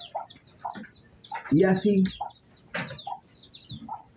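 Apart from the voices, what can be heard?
chickens clucking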